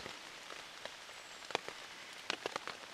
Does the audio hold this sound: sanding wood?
no